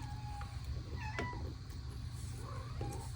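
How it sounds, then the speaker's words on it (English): A pet cat meows a few times indoors at a card-stamping craft table, with short, moderately faint cries rising over a steady low room hum. "My cat's here. Can you hear her?"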